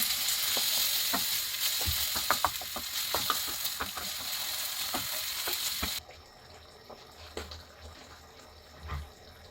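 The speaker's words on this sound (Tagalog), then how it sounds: "Ilagay na natin yung ating spaghetti sauce." Spaghetti sauce hits a hot pan and sizzles steadily, with scattered pops and clicks of stirring over the frying hiss; the sizzle drops away abruptly partway through, leaving quieter scattered clicks.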